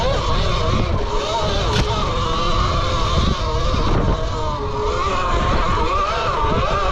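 An E Ride Pro S 6kW electric bike ridden at wide-open throttle on rough ground, with a steady loud drive whine and rushing wind and road noise throughout, shifting in pitch as it strains.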